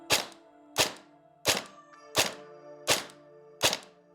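An airsoft gun fitted with a T238 tracer unit fires six single shots, each a sharp, close thunk with a short ringing tail, spaced evenly about two-thirds of a second apart.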